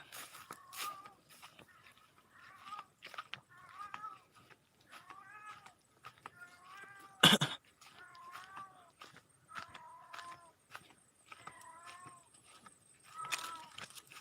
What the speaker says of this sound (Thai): เป็นเสียงแมวนะครับ